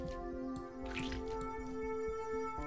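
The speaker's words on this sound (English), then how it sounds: "You're going to need a tube for draining the blood." Blood draining through a tube in the video game A Mortician's Tale comes through as soft, quiet wet drips and squishes over a steady electronic hum and faint tonal music.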